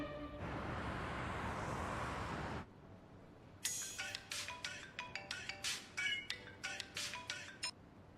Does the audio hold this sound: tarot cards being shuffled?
no